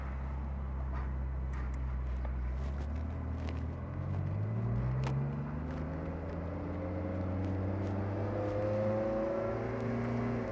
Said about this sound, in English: Back on the gas pedal